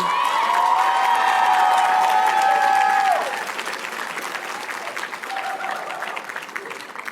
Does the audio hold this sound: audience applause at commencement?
yes